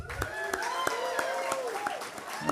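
Applause for a sponsor at the Moreno Valley State of the City gathering: a continuous bed of crowd clapping with periodic sharper claps, while music or voices run underneath.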